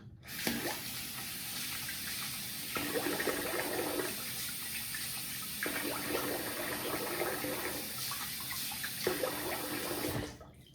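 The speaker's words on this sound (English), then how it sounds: "I'm going to rinse the face here and get it in the post" An SE OneBlade razor head is rinsed under a running tap. The water rushes steadily and close, changing in tone as the razor moves in and out of the stream.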